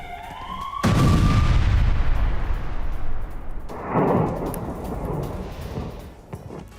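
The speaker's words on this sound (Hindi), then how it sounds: "दक्षिणी लेबनान में इजरायल का हवाई हमला, हिजबुल्लाह के ठिकानों पर मिसाइलों से अटैक।" Missile explosions from an Israeli airstrike in southern Lebanon, a rising whistle, then a loud booming blast with a long rumbling decay, followed by a second, fainter rolling boom.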